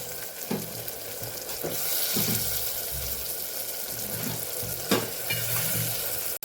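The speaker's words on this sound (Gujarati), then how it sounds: "વાલોર રીંગણાને મસાલા સાથે આપણે સરસ સાતળી લેવાના છે." Brinjal and valor beans sauté with spices and a little sugar in a pan for a Kathiyawadi curry, giving a steady close sizzle broken by several scraping stirs of a spoon, with no talking.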